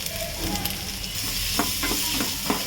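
Sliced onions fry with salt in a pan for a North Karnataka kalu palya, giving a steady broadband sizzle with a few short scraping stirs near the end, close and alone with no talk.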